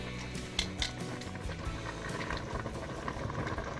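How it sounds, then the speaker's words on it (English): Angel hair noodles boil in a pot on the stove with a continuous bubbling, gurgling roil at close range, steady in level with a few sharper pops early on, no voices. "These noodles don't take long to cook, probably a good 5 minutes or so."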